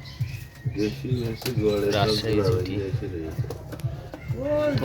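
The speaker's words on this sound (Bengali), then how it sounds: "এই যে বাজির কবুতর" Pigeons coo steadily in a loft, a rolling low burble heard close, with someone talking throughout over the birds.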